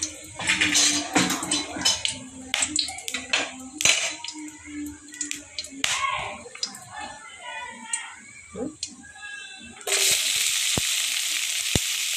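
Oil sizzles and crackles steadily as cinnamon, cloves and onion fry for mutton thokku, with scattered clinks and a voice speaking over it; a louder hiss surges near the end.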